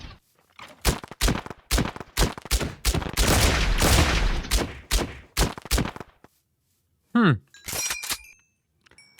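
Gunfire from a rifle in the Minecraft Scorched Guns 2 mod, a rapid series of sharp shots with one longer burst in the middle, then a few more shots after a short pause.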